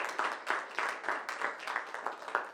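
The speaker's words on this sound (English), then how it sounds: "let's give her a round of applause." An audience at a school board meeting claps, with rhythmic rounds of applause pulsing steadily at a moderate level in a room.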